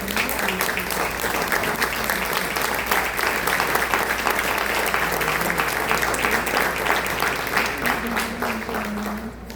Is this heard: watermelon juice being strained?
no